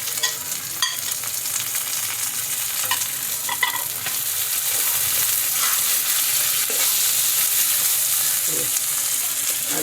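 Tomatoes and green chillies frying with onions in a pan, a dense steady sizzle with occasional spoon scrapes and taps, close up and continuous.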